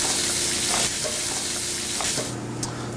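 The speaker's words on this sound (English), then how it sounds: "Okay. You can give it a little stir." Onions frying in oil in a pan and being stirred, a loud continuous sizzle with scraping stirring sounds, close up and without voices.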